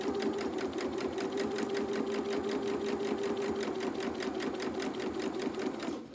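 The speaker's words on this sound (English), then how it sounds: "So we're just going to put this into the sewing machine." A sewing machine runs steadily doing construction stitching on fabric for a finished advent calendar, a fast continuous mechanical hum with rapid needle clatter, close and alone, stopping briefly at the end.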